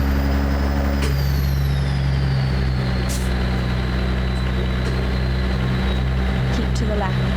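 A KW flat-glass truck driving in American Truck Simulator, with a loud, steady engine drone, a brief air hiss near the start and faint clicks over the constant rumble.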